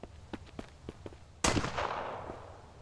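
AK rifle fire in the survival game Mist Survival: several light, quick shots or steps early on, then one loud, close blast that rings out in a long decaying tail, with no talk over it.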